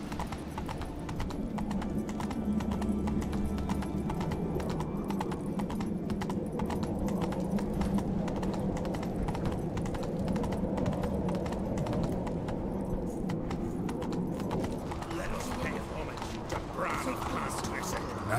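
Roach, the horse in The Witcher 3 on Skellige, gallops with rapid, close clip-clop hoofbeats throughout, slowing near the end.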